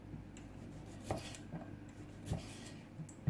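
A knife cuts through pieces of food on a board while an afternoon snack is prepared, giving a few quiet, separate chopping taps with soft scraping in between.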